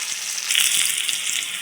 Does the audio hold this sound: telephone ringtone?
no